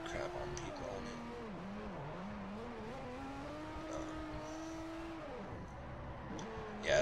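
A drift car in the Forza Motorsport 4 racing game: a steady engine drone that swoops up and down in pitch as it slides, continuous and fairly loud, with a voice talking over it.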